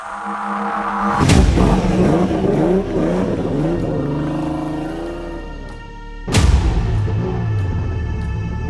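A competition car's engine revs hard at the start of a top-32 battle run. Two loud, sudden bursts of acceleration, the second about five seconds after the first, rise above a lingering engine drone.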